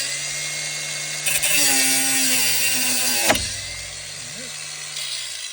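An angle grinder cuts through a corroded front shock absorber part on a 2011 SEAT Leon 1.2 TSi, a loud continuous high whine with a brief pitch dip and a sharp bite partway through.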